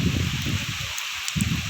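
Typhoon Tino in Santander, Cebu: steady wind and rain wash with a broad hiss, low gusty rumble rising and dipping, close and continuous, no voices.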